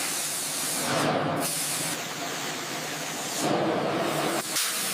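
Primer spray-painted onto recycled tractor steel, with two bursts of airy hiss each lasting about a second over a steady background hiss, close and moderately loud.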